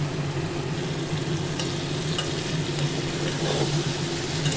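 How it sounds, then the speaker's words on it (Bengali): Masala being sautéed in a pan, a steady close sizzle and frying hiss that runs unbroken throughout, with faint stirring scrapes and no talking. "আরও দু তিন মিনিট আমি কষাবো"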